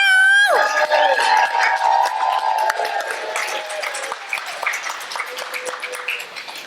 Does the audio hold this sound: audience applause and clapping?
yes